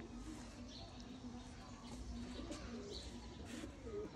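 Soft, low cooing from pigeons repeats over a faint background murmur, with a few light chirps scattered throughout.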